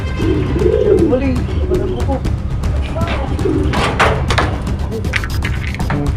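Racing pigeons back from a south derby race cooing near at hand in a loft, with soft thumps and wing flutters, under steady background noise and some nearby talk.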